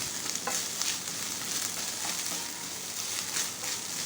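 Grated coconut being stirred in a hot pan while making semolina upma, a dense steady hiss of frying with soft repeated scraping strokes throughout, no speech.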